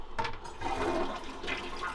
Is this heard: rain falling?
no